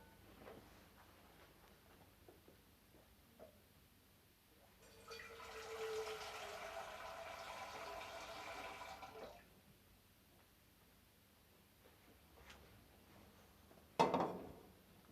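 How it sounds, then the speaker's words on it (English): Tap water runs into a pot at a kitchen sink in a steady, moderately quiet stream for about four seconds, with faint clinks before it and a sharp knock afterward. "we're just going to pop some water in that pot and just pop over to the sink"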